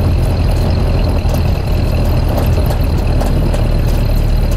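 A 1928 Ford Model A engine runs steadily in high gear, a loud, constant low mechanical drone with a faint rattling texture and no talk.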